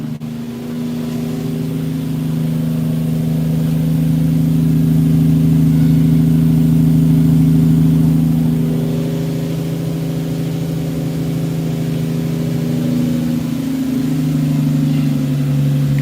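A car engine hums loudly and steadily, rising slightly in pitch midway as it revs, then settling back to a steady drone.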